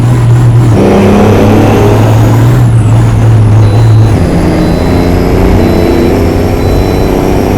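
Scania bus in Euro Truck Simulator 2 with a short custom exhaust, a loud close engine drone that shifts pitch partway through as it revs and settles, no talk over it.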